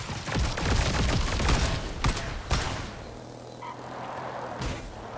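Enemy gunfire in the building game Trailmakers, a dense rapid barrage of booming shots that is loud and continuous at first, then thins out to a few heavy thuds.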